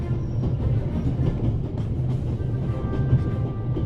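A train runs in The Raven Remastered mystery adventure game, producing a steady, loud mechanical rumble that continues throughout with no break.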